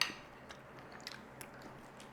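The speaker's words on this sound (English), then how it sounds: "Crunchy, crunchy beef." Quiet, close crunchy chewing with small irregular crackles as Chinese crispy shredded beef is bitten and chewed; no talking.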